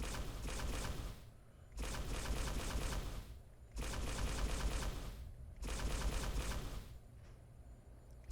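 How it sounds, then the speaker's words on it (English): Sustained bursts of automatic gunfire in Fallout New Vegas outside the NCR Mojave Outpost, four dense volleys of roughly two seconds each separated by short pauses, loud and continuous with no talk. "Let's take some pot shots here."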